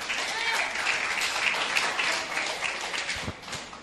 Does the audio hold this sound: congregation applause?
yes